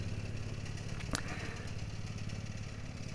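A Cub Cadet CC30H riding mower mowing at slow speed gives a continuous rough, clattering engine drone with a steady low hum and one brief sharp rattle, fairly close, with no talk over it.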